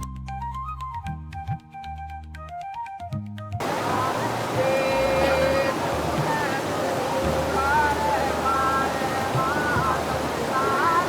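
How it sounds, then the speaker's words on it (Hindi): Water flows over rocks in forest at Amarkantak, a loud steady rush with faint chirps on top, preceded by a few seconds of music. "जंगल, पत्थर, पानी की आवाज़ें सब मिलकर एक परफेक्ट नेचुरल सीन बनता है।"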